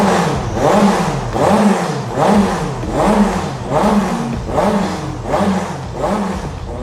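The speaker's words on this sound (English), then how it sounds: "The engine sounds spectacular in action and even when the car is standing still." A powerful Nissan R390 supercar engine revs repeatedly in a regular pulsing rhythm, each surge rising and falling, loud and close.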